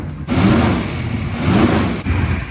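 A 1955 Chevy V8 with its ignition timing advanced to 45 degrees total runs at a raised idle, a steady, loud, close engine rumble with a brief dip partway through and no talking.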